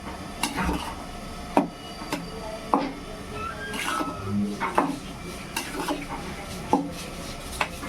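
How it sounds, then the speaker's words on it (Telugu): A spoon stirs paramannam, a sweet rice pudding, in a metal pot, with scattered scraping clinks and knocks against the pot sides at an irregular pace, close and fairly quiet. "ఒకసారి తిప్పుకోవాలి"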